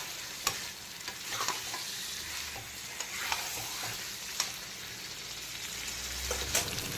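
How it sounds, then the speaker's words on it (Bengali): Pre-fried yam pieces are sautéed with spices in a pan over medium to high flame, with a continuous close sizzle and scattered clinks and scrapes of stirring, no voices. "ভেজে রাখা ওলগুলোকে মশলার সঙ্গে প্রায় 4 থেকে 5 মিনিট সময় নিয়ে খুব ভালো করে কষিয়ে নিলাম মিডিয়াম টু হাই ফ্লেমে অল্টারনেট করে করে"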